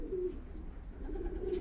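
Pigeons cooing, close by, in a few soft, low throaty calls spread across the moment with steady background noise, from racing pigeons put up for auction.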